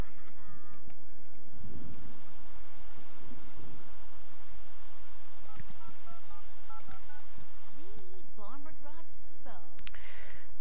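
Telephone dialing tones from calling services in The Sims 3, a short run of stepped electronic beeps in the middle of the clip over game music and sound effects, with a voice talking at times.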